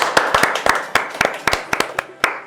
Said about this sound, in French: on peut l'applaudir bien fort quand même